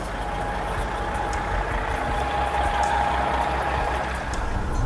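A semi truck hooked to an orange trailer idles steadily, a constant low engine rumble with a faint whine, close and unchanging throughout.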